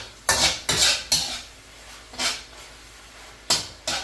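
A spoon clinks and scrapes around a bowl while mixing thick gochujang chili paste, about six sharp metallic knocks in irregular pairs, close and distinct with no talk.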